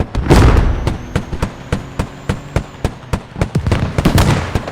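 A vehicle is destroyed in the Squad military shooter, an initial explosive blast followed by a long rhythmic string of sharp popping detonations, about a dozen evenly spaced cracks, loud and fairly close.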